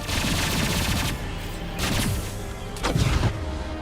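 A heavy weapon fires in the Mass Effect 2 video game on hardcore difficulty, with three loud booming blasts and rumbling explosions spaced about a second apart, each trailing off into echoing debris, with no talking over them.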